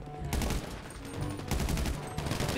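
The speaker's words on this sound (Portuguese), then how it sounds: "Tô tomando pipoco aqui, velho." Rapid gunfire bursts in the online video game GTA V Online, with a dense, continuous crackle of shots and fusillades that keeps going almost without pause.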